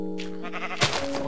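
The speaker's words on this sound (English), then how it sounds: "What's with the sheep?" Brief sheep bleat from the Minecraft video game, a single short cry heard over steady background game music.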